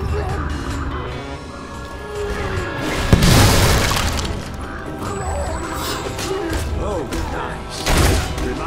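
Barrel shot and blowing up in Fable 3, a thudding blast with crackling debris in dense game action and music, followed later by another low boom, with someone talking over it.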